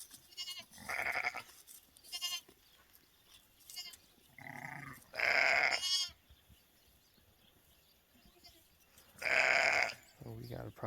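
Bleats from a lamb and an adult sheep on a farm trade back and forth, several loud, harmonic calls spread across the stretch with quieter rustling and shuffling between them.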